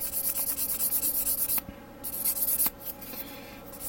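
Sandpaper rubs primer off a small plastic Gundam model kit part, a close rhythmic scratching of quick even strokes that stops briefly twice before resuming more softly.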